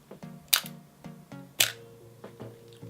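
A film camera shutter fires for a 1 second exposure, with two sharp clicks about a second apart set among smaller mechanical ticks, close and alone with no talk.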